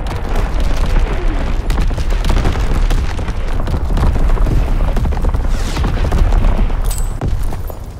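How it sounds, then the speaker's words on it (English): Enemy mortar fire in Call of Duty WW2 during an undead attack event: loud, dense booms and blasts pound continuously with crackling gunfire mixed in, a relentless wall of battle noise. "Enemy mortar fire incoming!"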